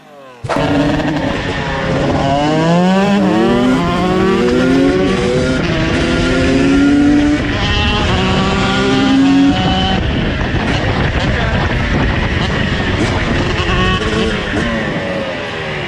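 A high-revving motorcycle engine screams loudly through rising gear changes, pitch climbing and dropping repeatedly, then settles into a harsh sustained roar.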